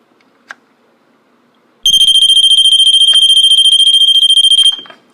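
A Vulcan Autosonic Mk. VI B smoke alarm sounding during a test, a loud, piercing, rapidly pulsing electronic shriek that starts abruptly after a click and runs steadily for about three seconds before stopping.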